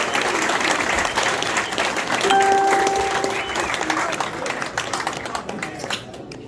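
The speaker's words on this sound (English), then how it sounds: "give all these gentlemen a round of applause" Sustained audience applause honoring veterans at an American Legion Quilts of Honor ceremony, loud and steady throughout with a brief whistle-like tone in the middle, fading slightly at the end; speech-like crowd noise mixed in.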